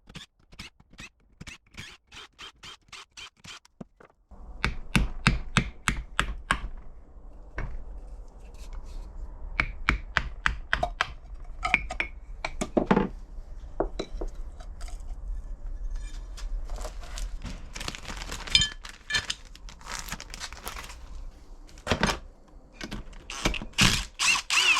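Metal parts clink and click while the cover of a Land Rover LT230 transfer case is taken off. Sharp, close taps and rattles come in irregular bursts, with brief quiet gaps between.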